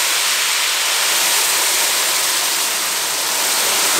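Sugar dissolved in water poured into a pan of cooking semolina halwa over a medium flame, giving a loud, continuous bright hiss and sizzle that stays even for several seconds with no talking.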